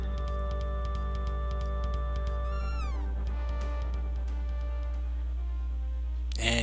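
A cat meows in the Chrono Trigger video game, with short chiptune-style tones over steady game music and a burst of effects near the end.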